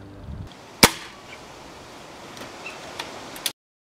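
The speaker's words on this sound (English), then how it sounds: "I'm now going to test the power by firing another 10 of those Airarms Diablo Field pellets over the chronograph." A Baikal IJ-22 air rifle fires a single 8.4 grain Air Arms Diablo Field pellet through a chronograph, giving one sharp, close crack followed by faint handling rustles and small clicks.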